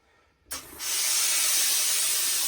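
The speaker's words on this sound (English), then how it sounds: "So let's introduce a bit of steam and see what happens." Steam hisses onto a black felt Borsalino fedora during restoration, a sudden loud steady spray that starts abruptly and holds constant, close and alone.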